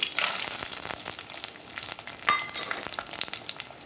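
Fenugreek seeds frying in hot oil for a tamarind curry, a steady close crackling sizzle with tiny popping bursts and occasional stirring, with no talking.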